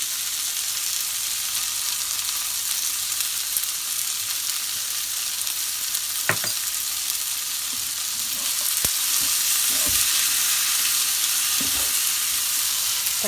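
Tomatoes sautéing in a pan for a spicy fish curry, giving a steady, even sizzle of frying throughout, with a few soft scrapes and taps of a spoon against the pan near the end.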